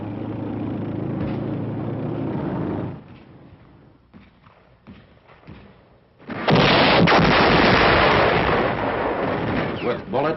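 Marines in jungle combat fire their weapons as armored Amtraks probe for snipers, loud sustained bursts of gunfire and blasts, dropping to quieter sporadic cracks midway before a dense, heavy barrage resumes.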